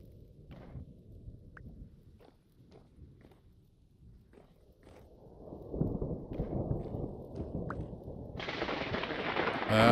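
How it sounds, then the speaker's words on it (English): Rolling thunder from a thunderstorm in the video game Vintage Story rumbles low and steady while faint clicks and taps come and go, swelling louder midway and ending in a broad rushing wash like heavy rain. "There's that thunder and storm again."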